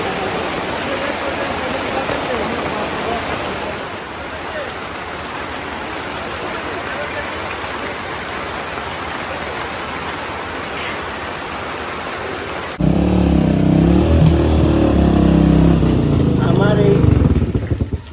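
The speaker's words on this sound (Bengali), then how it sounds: "দেখেন বৃষ্টি পড়তেছে কীভাবে প্রচুর ধারে" Heavy rain pouring at a market, a steady loud hiss throughout that swells into a rougher, louder downpour near the end, with someone talking over it.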